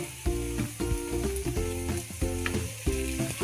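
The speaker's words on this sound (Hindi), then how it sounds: "अभी हम इसको पलट कर लेंगे एक तरफ से अच्छे से फ्राई हो गए हैं" Mixed-dal stuffed chilies, just flipped, fry in a pan with a soft continuous hiss running beneath a looping tonal music bed.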